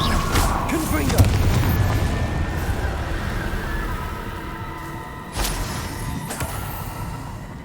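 Confringo fire spell exploding in Hogwarts Legacy, a deep boom at the start followed by a fading rumble and a second sharp burst later, loud and close, with a voice speaking in the game.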